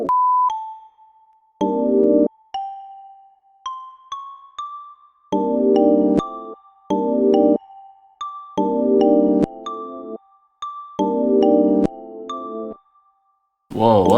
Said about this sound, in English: So we're just gonna add some nice bells.